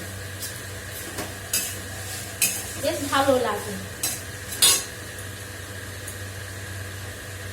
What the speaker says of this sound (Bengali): আস্তে আস্তে করে একটু আর ভাজবো, ভাজাটা হয়ে গেছে